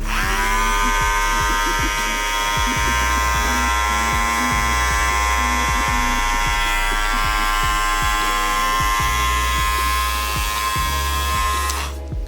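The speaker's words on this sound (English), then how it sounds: "let's just go ahead and turn these on" Black Label Andis Master cordless hair clippers run continuously with a loud, steady electric buzz and hum from start to finish, close and alone.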